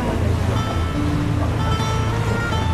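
Water sloshing and lapping at a spa resort in São Pedro do Sul, heard as a steady, dense wash of noise with a constant low rumble throughout, loud and close, with no pauses.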